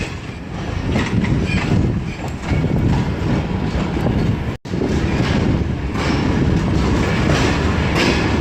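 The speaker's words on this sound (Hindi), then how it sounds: "तो अब हमारी ट्रेन निकल रही है कोटरी जंक्शन रेलवे स्टेशन से," A passenger train pulls out of Kotri Junction railway station with a loud, continuous rumble and clatter of wheels on track, heard up close from onboard, with a brief dropout midway.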